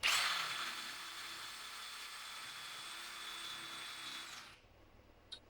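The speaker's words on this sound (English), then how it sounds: "So all that's left for me to do now is to go ahead and drill my hole." A power drill whines steadily at close range for several seconds, drilling a hole in a custom case for a vintage stereo, then cuts off, leaving quiet with a faint click at the end.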